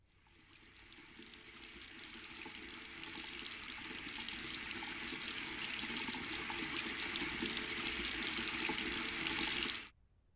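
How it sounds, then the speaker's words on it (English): Tap water runs steadily into a pot, a continuous close rushing splash that builds slightly as it fills and then cuts off abruptly near the end, with no talking. "would you mind filling a pot with water?"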